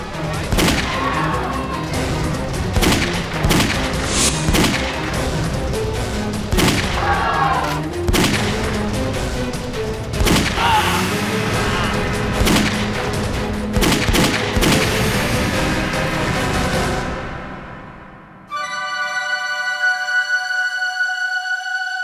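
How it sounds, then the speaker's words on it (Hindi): Rapid bursts of gunfire crack through a loud, dense mix of music and commotion, then the shots stop and a steady sustained tone takes over. "किसने गोली चलाई?"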